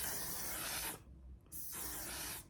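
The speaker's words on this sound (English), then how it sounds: "I'm gonna go ahead and spray my face and set my face." Two bursts of setting spray misted onto a face, each a close, loud hiss lasting about a second, separated by a brief pause with no talking.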